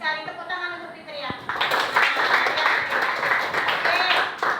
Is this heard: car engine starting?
no